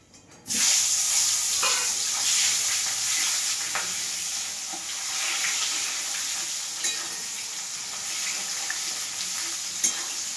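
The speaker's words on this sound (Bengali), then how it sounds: "লাল লাল করে আমি পেঁয়াজটা ভাজবো।" Chopped onion hits hot oil with bay leaves, cardamom, cinnamon and cloves, bursting into a loud sizzle that settles into steady frying with occasional stirring scrapes.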